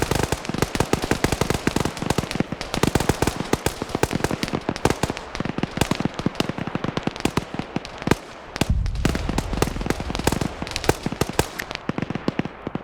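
Dense, relentless battlefield fire in a PvP military video game: rapid cracks and bursts, an anti-tank shot among heavy explosions, with a deep booming blast near the end. Loud, continuous, and no talking.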